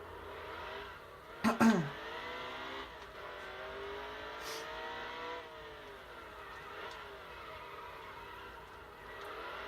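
Race car engine in NASCAR Heat 2 on the Charlotte Roval, a sharp crash impact at the wall followed by a steady droning engine with shifting pitch, carrying on loud and alone.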